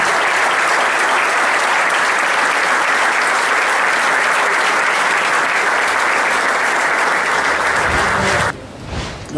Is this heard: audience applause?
yes